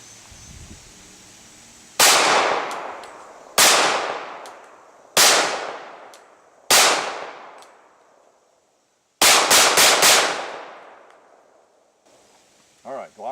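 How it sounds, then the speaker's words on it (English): Series of loud, sharp pistol shots from a Glock 27 firing 180 grain factory ammunition: four spaced single shots with ringing decay, then a rapid burst of about four shots, near and alone. "Again, this is still the Glock 27, 180 grain ammo, factory ammo."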